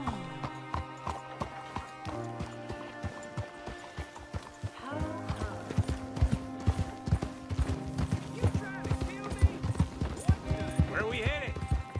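Horse hooves clip-clop steadily in Red Dead Redemption 2, a continuous walking rhythm under a musical score, with characters talking over the ride.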